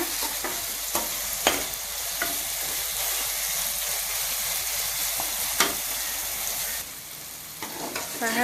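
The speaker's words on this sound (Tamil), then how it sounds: "நல்ல பொடியா நறுக்கி இதோட அதையும் வதக்கிக்கோங்க" Finely chopped onions with ginger and garlic sauté in a pan for a homemade chicken curry, giving a steady loud sizzle broken by occasional sharp stirring clicks and scrapes, then easing slightly near the end.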